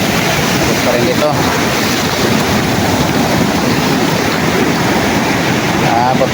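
Heavy surf surges onto a seashore during a typhoon and monsoon storm, a loud, continuous roar of crashing water mixed with gusting wind buffeting the microphone, with no break throughout.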